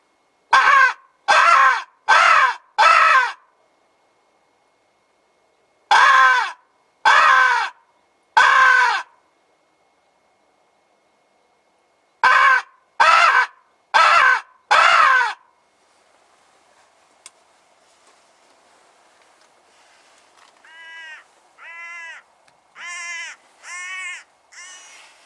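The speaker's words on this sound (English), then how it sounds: "I've got myself a hooded crow." Hooded crows in the Highlands cawing in loud, close bursts of three to five harsh calls separated by pauses, followed by softer, lower-pitched calls near the end.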